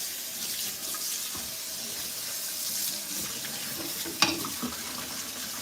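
Tap water runs steadily into a kitchen sink as a scoured pot is rinsed, a continuous close hiss with a brief clunk of the pot near the end and no talk.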